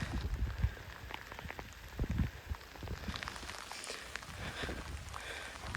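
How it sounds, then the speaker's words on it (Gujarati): Rain patters steadily on nearby surfaces, with scattered louder drops tapping irregularly over a soft continuous hiss. "તમે જોઈ શકો ત્યાં વરસાદ આવે છે ચાલુ છે"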